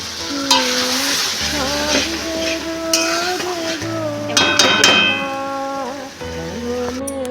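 A spoon stirs a potato, pointed gourd and prawn paste curry in a hot pan, with steady sizzling broken by repeated scrapes and metallic clangs against the pan, heard up close without talk.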